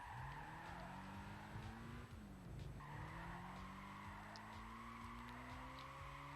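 Car drifting in Gran Turismo 5 with sustained tire squeal over a loud, continuous engine drone, pitch rising and dipping as the car slides, no talking.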